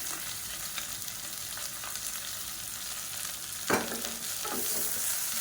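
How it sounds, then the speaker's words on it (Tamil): Large sliced onions fry steadily in a pan for chicken kurma, a continuous close sizzle with occasional stirring scrapes and clinks, no one talking. "வெங்காயம் நல்லா வதங்கட்டும்"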